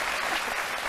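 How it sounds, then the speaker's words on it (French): A studio audience on a French midday talk show breaks into a brief burst of dense, loud applause, with continuous clapping throughout. "On va applaudir pour ce médecin."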